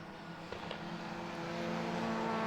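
A BMW race car pulls away at Brands Hatch, a steady engine drone that grows gradually louder over a couple of seconds, moderately distant.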